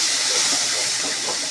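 Ginger paste hisses and sizzles steadily in a hot pan while a drumstick and tomato curry is being cooked, a loud continuous frying sound close by with no talk.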